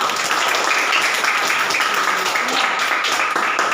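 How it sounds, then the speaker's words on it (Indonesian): Schoolchildren in a classroom clap together in a steady, dense burst of applause that stays loud and even throughout, with faint voices mixed in. "Beri tepuk tangan yang meriah"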